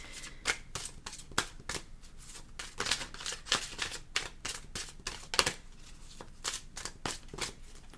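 Tarot cards being shuffled in a steady run of crisp riffling bursts, close and clear, with no talking.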